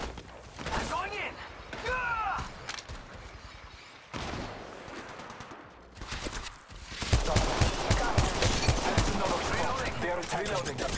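Bursts of automatic gunfire from an Apex Legends Mobile battle royale match crackle in rapid clusters, growing denser and louder toward the end, layered with game sounds.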